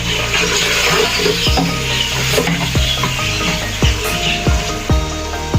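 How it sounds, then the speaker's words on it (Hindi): Tomatoes and chilies sizzle steadily in hot oil with beef trotters for paya, while a spoon stirs and scrapes the pot in repeated knocks, close and loud, with no talking. "अब साथ ही बुनाई इसकी होगी, साथ साथ भूनते जाएंगे।"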